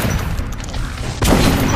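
Gunfire in the video game Metro: Last Night, heard as a loud, dense wash of low booming shots that sharpens into a stronger blast near the end.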